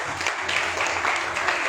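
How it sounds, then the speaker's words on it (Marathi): Brief, fairly faint applause from a gathered audience of students and parents at a school results event honouring a top-ranked student. "जोरदार टाळ्या वाजवा."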